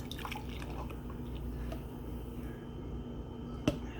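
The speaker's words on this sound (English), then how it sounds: "Now I will pour it into my cup." Blended, foamy golden milk is poured into a cup, giving a soft, quiet liquid trickle with faint drips and a small splash near the end.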